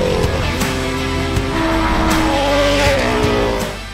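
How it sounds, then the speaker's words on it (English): A 200-horsepower single-seater race car drives fast, its engine revving loud and close with rising and falling gear-like pitch sweeps and brief tire chatter, fading slightly at the very end. "It's a fully adjustable turnkey race car that you jump in and you shred."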